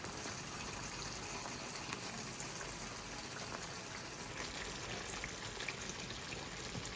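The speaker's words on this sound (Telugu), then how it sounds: "ఇప్పుడు అందులో ఉన్న రైస్ అంతా ఇది ట్రాన్స్ఫర్ చేస్తున్నాడు by draining out the water" Water drains steadily out of cooked rice for chicken biryani, a faint, even pouring rush that runs without a break.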